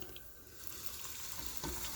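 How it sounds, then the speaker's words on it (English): Hot oil in a frying pan, heated for frying samosas, gives off a faint, continuous bubbling sizzle for a couple of seconds with no voices. "Look, it's bubbling."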